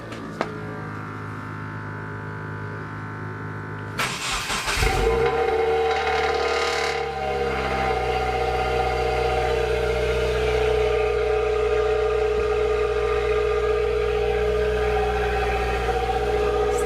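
A Subaru WRX with a catless J-pipe and muffler cranks over and settles into a steady, droning idle, loud and close with a low rumble that holds on evenly to the end.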